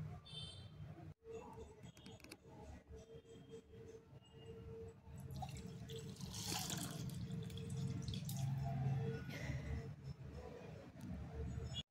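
Water poured from a plate into a glass during a Maha Shivratri puja at home gives a faint, close trickle and a few drips, quiet throughout with soft room noise.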